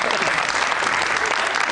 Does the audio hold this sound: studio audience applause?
yes